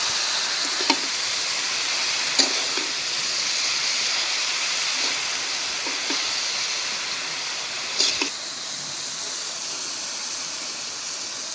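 Cabbage with small shrimp fries in a pan while being stirred, a steady mid-level sizzle with a few faint spatula clicks and scrapes, no speech.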